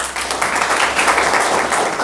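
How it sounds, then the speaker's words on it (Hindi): An audience at a wellness products training event applauds for a guest scientist, a dense steady patter of many hands clapping throughout, fairly loud and close. "सर के लिए जबरदस्त ताली।"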